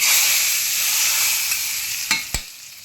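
Loud, continuous sizzling of tempering spices in hot oil, heard close up, with a couple of sharp crackles near the end and no voices.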